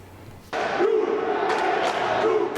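Football fans at the 2026 FIFA World Cup erupt into loud cheering and chanting after a brief quiet start, a dense crowd roar that holds steady to the end.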